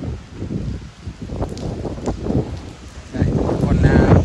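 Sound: rain and wind from Typhoon Kong-Rey

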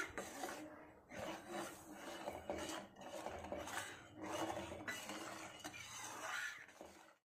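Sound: stirring rice flour and sugar into mango kheer

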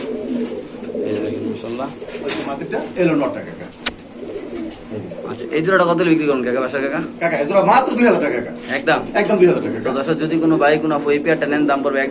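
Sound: white Beauty pigeon cooing

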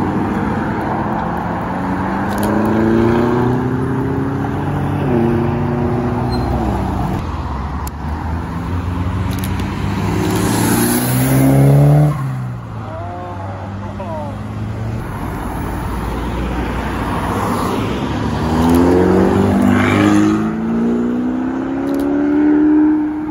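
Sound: dark blue Lamborghini Urus supercar driving past

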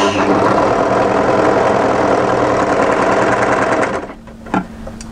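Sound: three-thread overlocker sewing the narrow edge of a fabric piece

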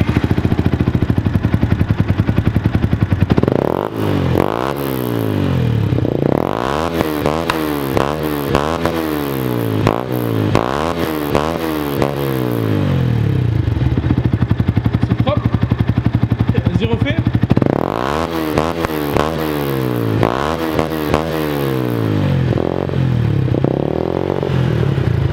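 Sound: Yamaha YZF 125 motorcycle engine starting and revving

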